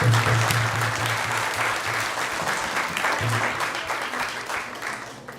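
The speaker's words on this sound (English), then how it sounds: "let's give a big round of applause to everyone who has joined us today." An audience at an ISKCON temple gathering in Silicon Valley gives a loud round of applause, dense clapping starting strong and slowly tapering, with a low hum in the room beneath it.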